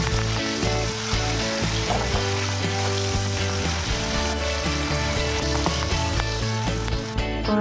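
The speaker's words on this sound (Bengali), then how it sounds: "আলুগুলো আগে নুন হলুদ মাখিয়ে আমি ভেজে তুলে রাখছি" Potato pieces rubbed with salt and turmeric fry in hot oil in a pan, giving a steady, loud sizzle and crackle throughout with faint clinks and background tones.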